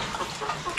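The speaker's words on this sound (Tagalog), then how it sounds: "May manok dito na lumapit, oh." A chicken clucking close by in a mountain farmyard, a short burst of soft throaty clucks over outdoor ambience, no talk.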